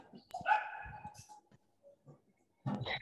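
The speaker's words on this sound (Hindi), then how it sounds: "ये सब कुत्ते भौंक रहे हैं" Dogs barking nearby in short bursts, a few sharp barks and yips with gaps between, fairly faint and alone.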